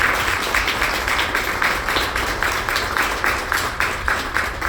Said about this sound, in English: I just want to like round of applause for that, for theater family